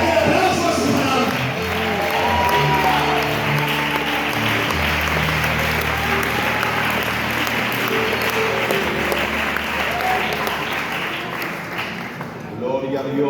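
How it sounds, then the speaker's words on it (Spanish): Applause and cheering from a church congregation at a Bible study gathering fill the clip, a dense crowd sound with voices mixed in throughout. "Fuerte aplauso a su palabra."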